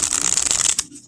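A deck of playing cards in a standard tuck box size and card stock is riffle shuffled, one quick close burst of rapid flutter ending in a soft snap.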